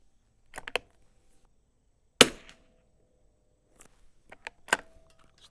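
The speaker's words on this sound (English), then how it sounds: "I'm going to keep shooting though." Vintage rifle shots crack out at a shooting range, one sharp loud report standing alone between smaller clicks and clatters of handling, with a few softer knocks near the end.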